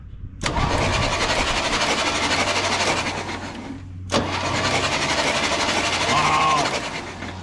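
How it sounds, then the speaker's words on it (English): A 1968 GMC pickup engine, sitting in a field for 27 years, cranks over in two long, loud bursts up close, the starter grinding steadily with a short pause between attempts. "She's gonna turn over?"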